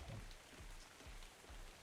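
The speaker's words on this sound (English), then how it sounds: "Oh, it's raining." Steady rain falling in the video game Ark: Survival Evolved, a soft continuous wash of droplets with faint low rumbles, quiet and even throughout with no talking.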